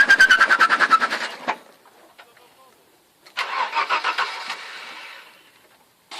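A cheap, worn-out car engine cranks with rapid rhythmic churning, falls quiet, then fires and revs in pulsing bursts before fading, with voices talking nearby.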